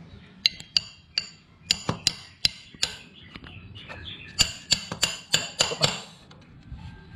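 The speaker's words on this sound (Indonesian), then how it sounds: "Jadi kita perlu rapatkan sedikit dengan menggunakan obeng getok seperti ini." An impact screwdriver is struck with sharp metallic taps while seating a part on a Yamaha 20 HP outboard motor, irregular hits close to the microphone, clustering faster toward the end.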